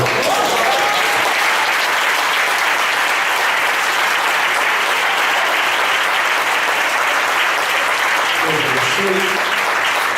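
A church congregation applauds loudly and steadily for the full stretch, a dense continuous wash of clapping with faint voices mixed in and a brief low murmur near the end.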